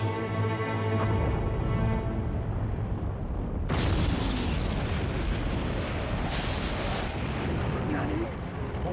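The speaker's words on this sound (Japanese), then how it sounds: "爆発が始まりおった。" Explosions boom and rumble continuously through a scene in the anime film Tekken: The Motion Picture (1998), Japanese dub, with a dense roar and a fresh blast surging midway over background music.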